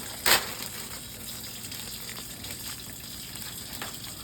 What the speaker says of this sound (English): Clean them with the dish soap and then rinse them off and hang them up.